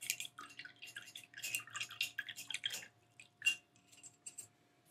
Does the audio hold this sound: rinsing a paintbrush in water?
yes